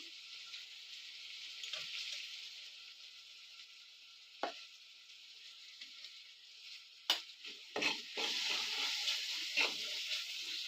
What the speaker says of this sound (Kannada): ನೋಡಿ ಚೆನ್ನಾಗಿ ಫ್ರೈ ಆಗಿದೆ ಎಲ್ಲ ಫ್ರೈ ಮಾಡ್ಕೊಳ್ಳಿ ಈ ಥರ ನೋಡಿ ಮಸಾಲೆ ಎಲ್ಲ ಹೇಗಾಗಿದೆ